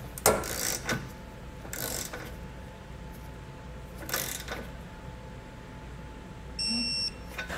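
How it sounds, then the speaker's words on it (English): A torque wrench tightens flange nuts on a Curt trailer hitch receiver being mounted on a 2020 Chevrolet Camaro, with bursts of ratchet clicking and a short series of beeps near the end. "now we can torque these to the specs"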